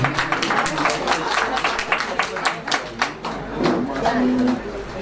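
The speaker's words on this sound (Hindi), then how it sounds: "और अब तालियों के साथ अभिवादन करें हम।" An audience at a Hindi book launch for a lyricist bursts into applause, a dense patter of many hands that swells and dips, while voices carry on underneath.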